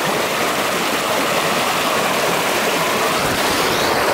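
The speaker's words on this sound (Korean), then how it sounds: "물소리도 좋고 하니까" A clear mountain valley stream rushes and splashes in a constant loud, close wash of water with no voices.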